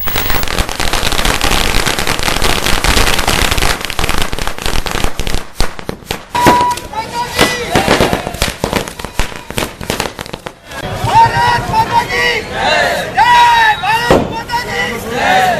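Firecrackers burst in rapid, loud crackling volleys at a local BJP victory celebration, with sharp bangs and pauses between strings and voices of the crowd mixed in.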